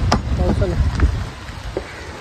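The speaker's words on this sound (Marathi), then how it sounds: "ब्लॉग चालू केला तर पाऊस झाला" Rain falls steadily as a dense, even hiss of drops on surfaces, close and fairly loud, with a voice briefly breaking through near the start.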